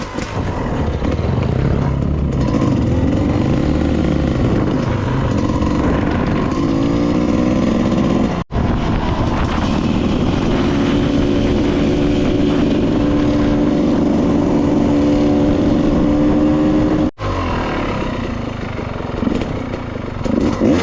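Motorcycles rev loudly and continuously at a dirt track event in Bulacan, close and roaring engine noise that swells and drones throughout, with no talk audible over it.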